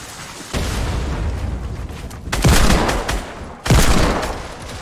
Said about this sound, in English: Keep shooting him with a hand cannon.